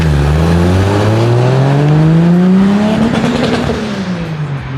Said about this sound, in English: I heard this thing shoots crazy flames and it's super loud